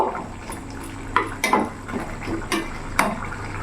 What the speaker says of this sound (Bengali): এরই মধ্যে আমি পনিরটা দিয়ে দেবো ভালো করে নাড়াচাড়া করে নেব